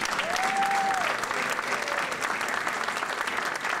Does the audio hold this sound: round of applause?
yes